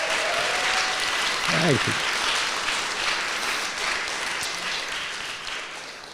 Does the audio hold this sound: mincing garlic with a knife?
no